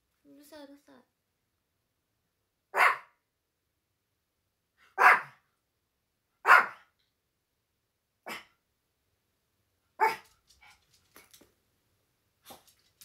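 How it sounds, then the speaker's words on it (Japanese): A dog barks six times in separated single barks a few seconds apart, fairly close, with a faint voice briefly at the start. "今マロンのワンワンっていう声で思い出したけどね"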